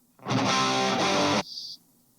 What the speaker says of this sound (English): a lot of these like scratchy, bitey guitar tones you do not need